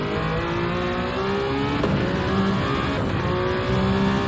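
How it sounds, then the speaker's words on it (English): A Toyota GR010 Hypercar engine roars at an on-board position during a WEC race lap at the Nürburgring. The drone is loud and steady, and its pitch climbs and dips as the car accelerates and lifts. "Toyota GR010 Hypercar into turn number 1"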